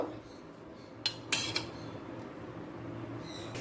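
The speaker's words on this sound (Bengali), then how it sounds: "এই মুহূর্তে আমি ঢাকাটা খুলে নেব" A metal lid is lifted off a cooking pot of rice simmering for a Bengali fish-head muri ghonto, giving three quick metallic clinks in the first two seconds over a quiet kitchen hum.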